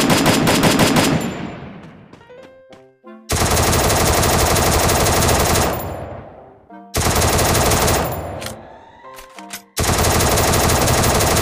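Gunfire in the mobile game Sakura School Simulator: loud, sustained automatic bursts, each cut off by a decaying ringing tail, repeating several times, close and harsh, with no talking.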